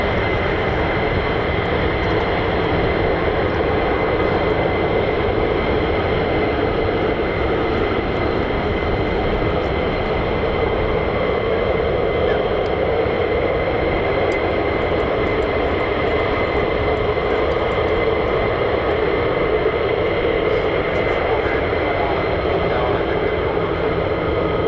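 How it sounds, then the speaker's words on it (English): US Air Force F-35 fighter jets fly at RAF Lakenheath, a constant broad distant roar of jet engines filling the air without letup. "Sure, I can hear F-35s as well"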